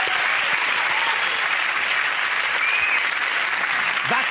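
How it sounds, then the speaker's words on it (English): Sustained, dense applause from a comedy panel show's studio audience, loud and even throughout with no breaks. "A round of applause to everyone involved."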